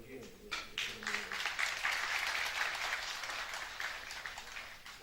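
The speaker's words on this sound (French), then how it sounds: "Si on pouvait l'applaudir, on peut l'applaudir." An audience applauds in a hall during a talk, a steady broadband patter of many hands that swells after a brief start and holds throughout, with a faint voice underneath early on.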